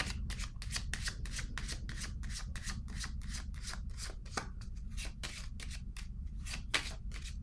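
Tarot cards being shuffled and laid down in a steady run of crisp, close slaps and riffles over a low background rumble, with no voices.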